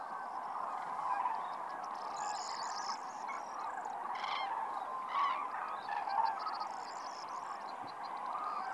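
Tens of thousands of common cranes in an Iberian winter, calling in a dense, continuous chorus of honking, trumpeting cries. Some calls rise louder near the middle over a steady, distant din.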